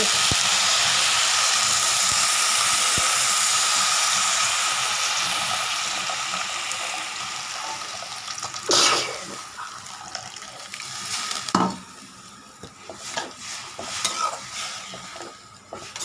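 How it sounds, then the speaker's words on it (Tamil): Water is poured into a pan of banana flower kootu cooking with turmeric, salt and asafoetida. It starts as a steady, close rushing pour, then tapers off into scattered stirring clinks and scrapes. "ஒரு ரெண்டு கிளாஸ் தண்ணி ஊற்றிக்கோங்க"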